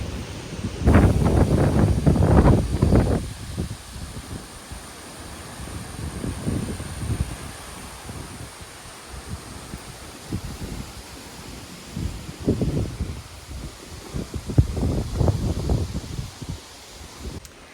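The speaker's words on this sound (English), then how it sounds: "it's still really windy." Strong gusty wind after Hurricane Beryl's tropical storm rushes through rustling leaves, with loud bursts at the start and end and calmer hissing stretches between them.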